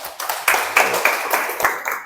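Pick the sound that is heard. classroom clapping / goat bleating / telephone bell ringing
classroom clapping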